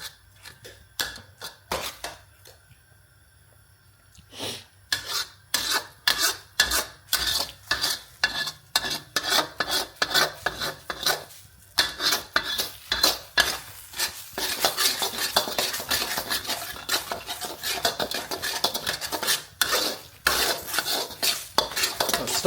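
A utensil scrapes and clatters rapidly against a wok as eggs are scrambled and stirred for homemade dog food, with brisk irregular metallic knocks over a faint sizzle, no talking.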